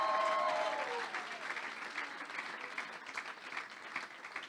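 A church congregation applauds during a Sunday worship service, a sustained wash of clapping from many hands that fades slightly toward the end, with faint voices mixed into the crowd.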